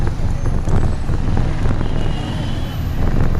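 Dense road traffic with cars and heavy trucks crawling in a jam through a village with no bypass, a steady broadband rumble with wind buffeting the microphone, continuous and fairly loud.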